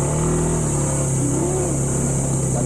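Motorcycle engine straining on the climb up the road to Mount Oro in Rodriguez, Rizal, a close, loud, steady drone with a shifting pitch as it labors uphill.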